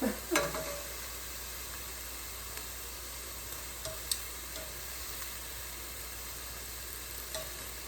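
Shrimp frying in a pan for shrimp alfredo, a quiet, even sizzle throughout with a brief clatter at the start and a few faint ticks and taps later.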